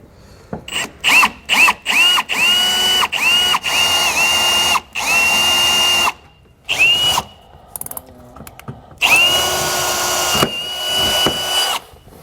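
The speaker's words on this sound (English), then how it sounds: "I'm going to drill a pilot hole through both of those marks that we've just made" A power drill boring pilot holes on a 2022 Jayco Jay Feather travel trailer whirs in short bursts, then runs in longer steady stretches with brief pauses between, close and loud.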